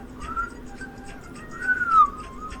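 A person whistles a short wavering tune, rising and falling, fairly close and moderately loud, with a faint hum underneath.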